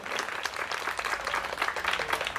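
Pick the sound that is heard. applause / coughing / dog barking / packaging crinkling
applause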